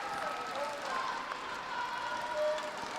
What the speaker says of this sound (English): taking in the applause from behind